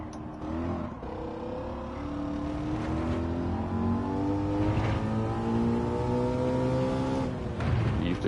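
A Ford Mustang race car engine laps Laguna Seca in Gran Turismo 7, its tone rising and falling steadily through gear changes, loud and close with no talk.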